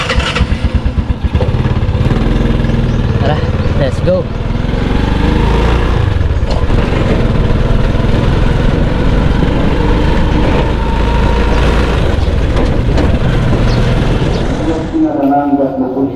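A borrowed motorcycle's engine runs steadily and loud close by throughout, with a person speaking briefly over it near the start.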